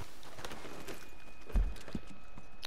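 A horse's hooves clip-clop in Red Dead Redemption 2, with a few soft, scattered hoof thuds over a quiet game ambience and one louder knock partway through.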